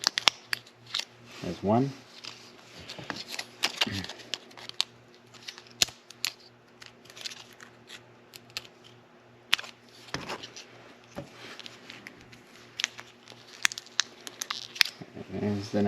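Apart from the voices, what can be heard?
scissors cutting open battery packaging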